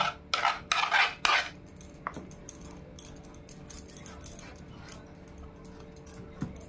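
Fish pieces being mixed by hand with stone-ground spices for a fish fry, giving soft squelching and clinking handling noises, with a few louder scrapes early on against a quiet kitchen background.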